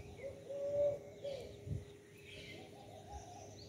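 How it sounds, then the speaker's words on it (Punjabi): A dove coos softly near its nest, a few faint, low calls in a quiet outdoor setting with light background noise. "ਇਹ ਉਹ ਘੁੱਗੀ ਹੈ ਮੈਨੂੰ ਪ੍ਰਤੀਤ ਹੁੰਦੀ ਹੈ"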